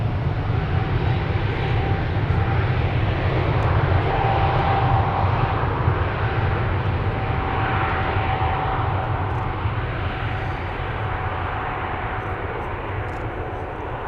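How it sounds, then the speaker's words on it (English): A KLM Boeing 777-300 departing Schiphol for Johannesburg roars loudly and continuously with a faint engine whine, easing off slightly toward the end, with no speech. "This is KLM flight 591 to Johannesburg, South Africa, 777-300 10 years old"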